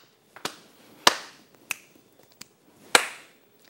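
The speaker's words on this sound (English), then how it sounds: "you're going to pat on your leg twice. Pat, pat. You have a clap, you have a snap, you have another clap." Hand body percussion in a rhythm drill of leg pats, claps and finger snaps: five sharp, close, isolated hits spaced unevenly across a few seconds over a quiet room, with no talking.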